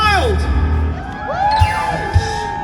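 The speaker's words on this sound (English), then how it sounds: "And the crowd went wild." A crowd at a theme park show at Alton Towers whoops and cheers loudly, with rising and falling shouted voices and a couple of low thumps, close and lively.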